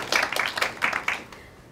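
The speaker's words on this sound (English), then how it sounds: "You can clap for me." A conference audience gives a brief burst of applause, several clustered hand claps close by for about a second before trailing off.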